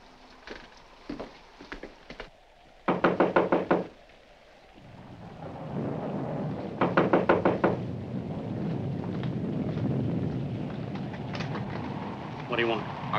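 Sharp knocks on a front door come in quick bursts at several points, loud and close, with a rain-like hiss and rumble filling the gaps between them.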